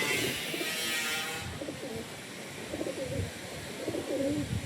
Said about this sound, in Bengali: এই হলো পায়রা